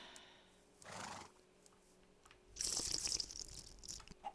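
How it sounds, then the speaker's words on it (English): A horse in a Minecraft-style vampire survival game whinnies once, then gives a longer, louder neigh with watery drips and faint clip-clop nearby. "there's another horse."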